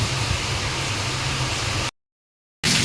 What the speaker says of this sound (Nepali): पानी आएपछि यसरी अत्तालेर आउँछ हो।